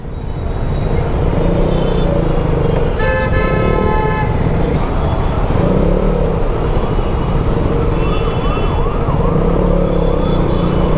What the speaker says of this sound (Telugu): అబ్బా ఏం ట్రాఫిక్ రా.